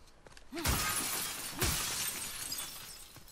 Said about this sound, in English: I don't know what the point of smashing the windows is, really